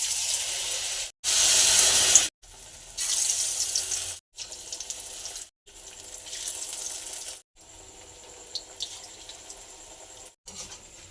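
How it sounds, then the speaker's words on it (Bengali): Chopped bitter gourd pieces being washed under running tap water in a sink, a steady close splashing flow that starts and stops in several separate bursts. "কাঁকরেলের কুচিগুলোকে জল দিয়ে ভালো করে ধুয়ে নেব।"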